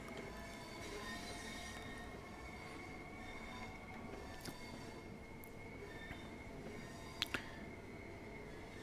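A South Eastern High Speed Class 465/9 electric train brakes toward a stop in a train simulator game, with a steady rumbling hum, faint wheel squeal and a few brief sharp clicks.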